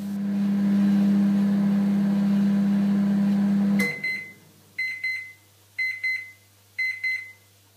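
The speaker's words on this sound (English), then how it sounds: "I'm going to put them into the microwave here." A steady microwave oven hum runs for several seconds while heating pittas, then cuts off abruptly, followed by four evenly spaced pairs of high electronic beeps.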